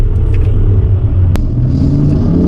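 BMW M3 with winter tyres driven in manual with Sport Plus engine mode and traction control fully on, on a wintry road: a loud, steady engine rumble that drones continuously without pause.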